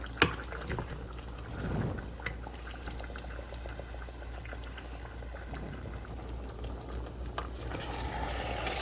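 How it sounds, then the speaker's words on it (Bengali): Chicken sautéing with masala in a pan over raised heat in a home kitchen gives a steady close sizzle and bubble, broken by scattered clinks and scrapes as it is stirred again and again, with no talking. "বারবার নেড়ে চেড়ে সুন্দর করে মশলার সাথে চিকেনটা কষাচ্ছি"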